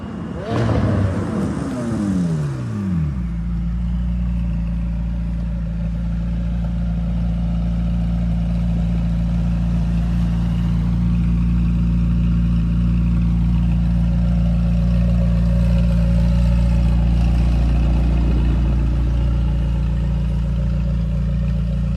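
McLaren 720S supercar gives a short sharp rev burst, then settles into a long, steady low engine drone that swells slightly as it rolls past, with no talking.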